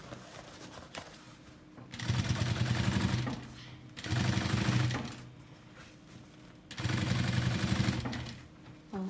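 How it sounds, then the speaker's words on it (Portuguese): A sewing machine stitches fabric for a vanity case bag, running in three steady bursts of a few seconds each with short quiet pauses between them. "E aí eu venho e faço a costurinha aqui para segurar aquela abinha da parte de dentro no lugar"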